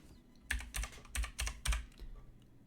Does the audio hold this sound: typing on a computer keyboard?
yes